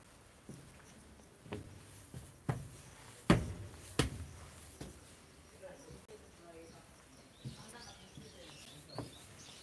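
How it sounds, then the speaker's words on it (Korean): Faint birds chirp now and then at a school playground, scattered short calls among soft taps and footsteps in a quiet open space. "새소리도 좋죠? 네, 자연의 소리."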